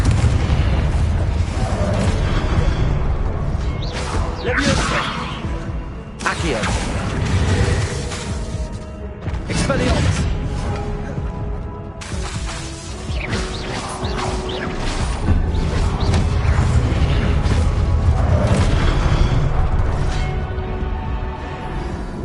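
Repeated Confringo explosive spells in the Hogwarts Legacy game burst as loud booms and crashes, several blasts in quick succession over a dense rumbling backdrop, with no talk.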